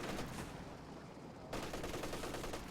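MG34 machine gun fire in a Company of Heroes 2 battle, a dense, continuous rattle of rapid shots that dips briefly and then surges back, with no talking.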